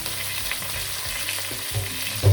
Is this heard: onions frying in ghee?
yes